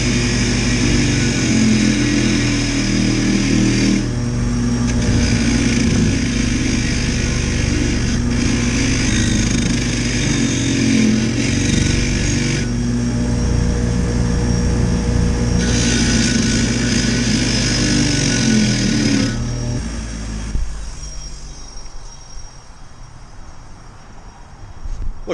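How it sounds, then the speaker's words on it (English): A wire wheel grinds welds off a car exhaust pipe in a steady, loud, continuous rasping whir that holds for about twenty seconds before cutting out and leaving a quieter tail. "we're just going to kind of wire wheel off all the weld"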